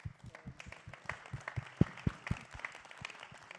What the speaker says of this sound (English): Don't give me this little polite applause.